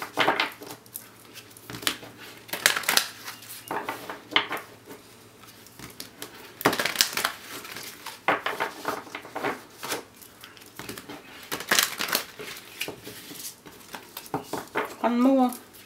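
A deck of tarot cards being shuffled, giving repeated soft riffling bursts in irregular rhythm, close by, with a person speaking at times between them.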